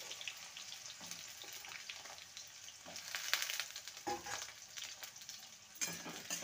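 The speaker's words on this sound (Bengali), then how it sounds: "আলুটাকে ভেজে নেব।" Long-cut potatoes frying in a pan give a faint, continuous sizzle and bubbling hiss, broken by occasional stirring scrapes and clinks.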